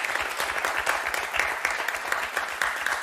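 A television game-show studio audience for Motus applauds warmly, a dense, steady clatter of many hands clapping close by for the whole stretch, with no voices over it.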